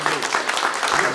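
An audience claps after a minister's speech on First Nations clean water, a dense, steady patter of many hands at close range, with a voice speaking faintly underneath.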